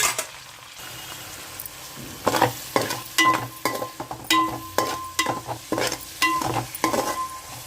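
Ingredients frying in about two spoons of ghee for cauliflower fried rice, crackling sizzle with frequent metal spoon scrapes and taps against the pan, close and lively.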